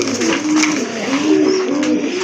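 Pigeons offered for sale coo in soft, rolling low calls close by, overlapping continuously throughout.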